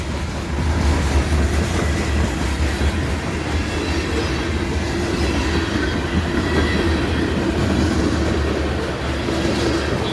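A CSX freight train passes close by on River Road in Chapel Hill, Tennessee, its cars rolling in a loud, sustained rumble with faint clickety-clack and a hint of wheel squeal throughout.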